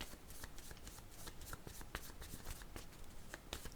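Quiet, fast riffling and soft flicking of playing cards being shuffled and drawn, a close, steady patter of small snaps with faint background hiss.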